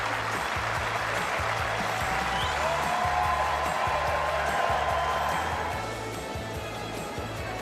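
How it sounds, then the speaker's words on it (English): A Wimbledon tennis crowd on Court One cheering and applauding after a point, broad roar of clapping and voices over steady pulsing low music, easing slightly toward the end. "we've heard loads of cheers and applause from that court there"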